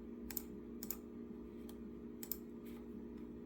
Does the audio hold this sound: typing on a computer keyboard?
yes